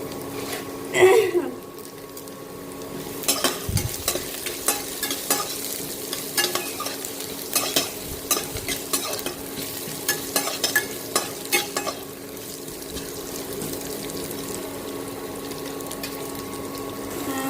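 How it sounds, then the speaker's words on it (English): Cumin seeds fry in a pan for a Manipuri aloo shaak, with steady sizzling and repeated stirring scrapes through most of the clip, a brief clatter near the start, and quieter sizzle toward the end. "Then I'll put some cumin seed or jeera seed."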